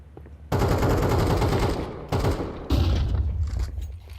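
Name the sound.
gunfire barrage in Counter-Strike video game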